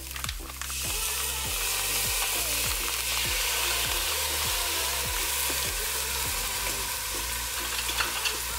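Kimchi hot pot stirred in a hot pan, a steady loud sizzle with regular scraping strokes of the utensil about every half second, close up and without voices.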